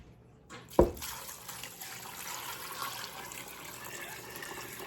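Water pours and runs steadily into a cooking pot of black-eyed peas, starting with a sharp splash and settling into a continuous close, moderate rushing stream with no voices.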